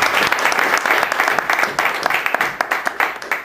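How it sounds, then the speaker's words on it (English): An audience breaks into applause to welcome a new speaker at a farewell gathering, a dense, close burst of many hands clapping that rises and holds for a few seconds. "So maybe with round of applause we could welcome him."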